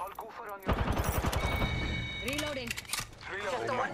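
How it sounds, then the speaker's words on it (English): Bursts of rapid gunfire crackle during an Apex Legends firefight, with a dense volley early on and scattered shots after, mixed under players talking. "cause they over here shooting"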